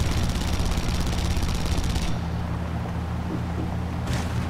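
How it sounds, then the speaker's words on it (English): Rocket turrets fire in Red Faction Guerrilla, a dense, loud barrage of rapid blasts and rumbling explosions that drops to a lower roar partway through before another burst near the end. "We are gonna shoot the shit out of you with these rocket turrets."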